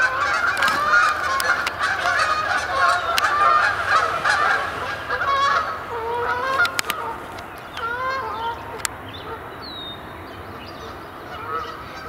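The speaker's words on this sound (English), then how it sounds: "Geese coming in. Sounds like a fair number of them" A flock of geese honks repeatedly and overlapping, the calls loud and busy at first, then thinning out with a few scattered honks over outdoor background noise.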